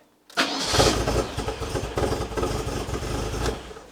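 A cold Porsche 924 engine cranks and catches quickly, then runs at a rough, uneven idle, loud and close.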